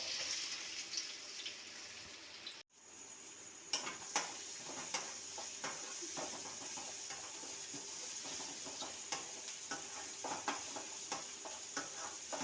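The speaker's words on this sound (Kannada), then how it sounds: "ಸ್ವಲ್ಪ ಶುಂಠಿನ ಚಿಕ್ಕ ಕಟ್ ಮಾಡಿ ಇಟ್ಕೊಂಡಿದ್ದೀನಲ್ಲ ಅದನ್ನು ಸ್ವಲ್ಪ ಹಾಕೋಣ ಇವಾಗ ಹಾಗೆ ಈರುಳ್ಳಿನ ಹಾಕ್ತಾ ಇದ್ದೇನೆ" Chopped ginger and onions fry in a pan for vegetable paneer fried rice, giving a steady, close sizzle with scattered stirring scrapes, a short break partway through, and no talking.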